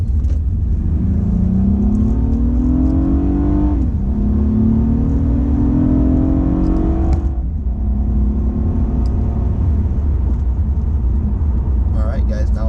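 A 2008 Acura TL Type S accelerates hard through two gear shifts, its engine note climbing steadily, dropping at each shift and then rising again, loud and close, before settling into road and wind rumble.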